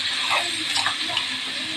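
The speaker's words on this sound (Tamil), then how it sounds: "இப்போ இதில் தண்ணி ஊற்றிக்கலாம்." Water pours steadily into crab masala in a pan. It makes a continuous splashing, gurgling rush that runs through the whole moment without speech.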